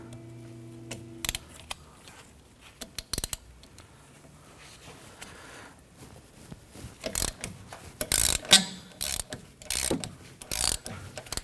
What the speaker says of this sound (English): I'm going to go through with an extension. Use our ratchet here.